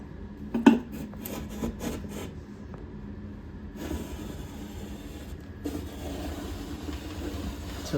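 A 5-in-1 tool scrapes caulking off a ridge in short, quiet rasping strokes, with a few sharp scrapes and knocks early on and a steadier, faint scratching later, with no talk.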